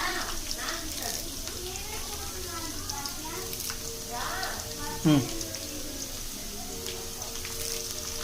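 Curry leaves sizzle in hot oil with a steady, crackling, rain-like hiss that runs throughout, with a brief sharp pop midway and a person talking over it.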